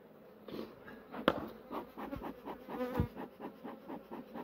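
Bees buzz close by at a hive in a wavering drone, rising and falling, with a few sharp knocks and scrapes among them.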